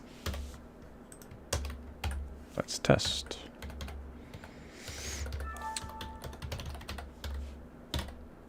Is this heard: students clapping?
no